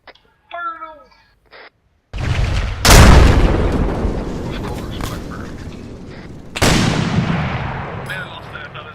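A squad opens fire in a military video game, heavy gunshots with booming reports: one big burst of fire that echoes and decays, then a second loud volley, following a few brief shouted words.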